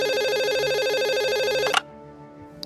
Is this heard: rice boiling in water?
no